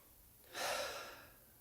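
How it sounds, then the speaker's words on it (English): A single deep breath during a guided meditation session, a soft airy rush that swells quickly and fades slowly, close and alone against near silence. "As you breathe and you allow the breath to fill up the lungs"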